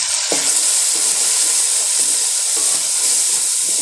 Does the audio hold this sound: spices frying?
yes